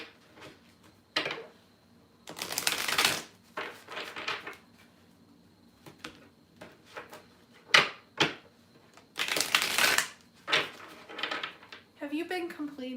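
Several bursts of crisp, papery riffling, like playing cards being shuffled, come in short bouts separated by quiet pauses.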